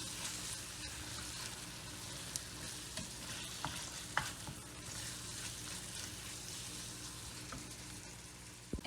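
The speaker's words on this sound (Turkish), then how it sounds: "Birkaç dakikada baharatlarıyla kavuracağım." Spices sizzle steadily in a hot pan while a utensil stirs and scrapes now and then, with small clicks scattered through.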